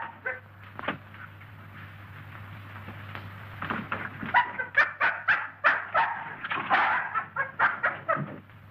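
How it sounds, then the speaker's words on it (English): An injured dog barks and yelps in an old 1933 mystery film soundtrack, a run of sharp repeated barks growing louder over a steady low hum, close and without speech. "This dog's been struck a nasty blow."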